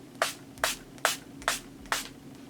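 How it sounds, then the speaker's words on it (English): Kash Beauty setting mist sprayed in five short, crisp hissing bursts at a steady rhythm, each a quick airy spritz close to the mic with faint background hum between pumps. "So this is the Kash Beauty Setting Mist."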